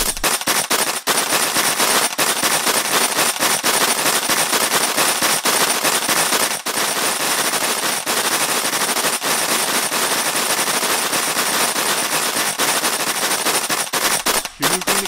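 Pellet gun firing in rapid continuous bursts throughout an animated Filipino action scene, loud and dense with only brief gaps.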